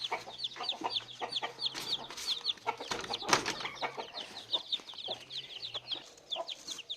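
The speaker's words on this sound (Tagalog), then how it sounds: "ito na po yung mga sisiyo at dito po natin sila ilalagay" Chickens and young chicks cluck and peep nonstop in a pen of cross-bred hulo roosters, with a busy, close chatter of many birds and high, repeated chick calls over it.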